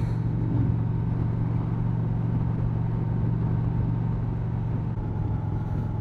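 An Indian Challenger motorcycle cruising on a long Florida ride, its steady low engine drone and wind rumble holding constant and close throughout, with no talking.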